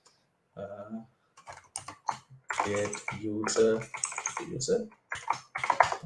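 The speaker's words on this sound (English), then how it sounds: "I'm using a mechanical keyboard, so it might be too loud." Keys clack on a mechanical computer keyboard during a live coding session, sharp irregular taps mixed in with someone talking over them.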